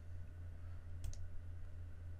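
A single quick double mouse click while working in PRO NEST nesting software, brief and fairly faint over a constant low hum, with no talking.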